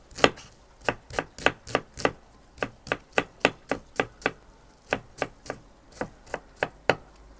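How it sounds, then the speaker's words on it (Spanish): An onion being diced into small cubes with a knife on a cutting board: about twenty crisp, evenly spaced chops, close and clear, with no talking. "La cebolla la vamos a cortar en cuadritos"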